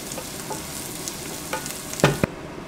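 Jalapeno, onions and garlic fry in a pan for chili con carne, giving a steady close sizzle with a few sharp scrapes and stirs near the end.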